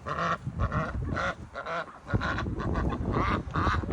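Backyard ducks and geese call out on a rainy day, a dense overlapping chorus of quacks and honks close by, continuous and loud throughout.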